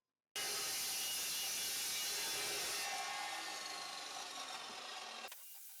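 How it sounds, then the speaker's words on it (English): Metal chop saw biting through 1-inch steel tubing: a sudden loud, continuous grinding roar that holds for about five seconds, shifts slightly in tone midway, then cuts off into a fading whine; close with no talking. "using my metal chop saw to make the cuts"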